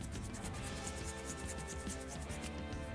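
Green Scotch-Brite pad scrubbing the body of a Redline twin mill diecast car, a quiet, rapid, rhythmic rasping rub repeating steadily throughout, close and alone.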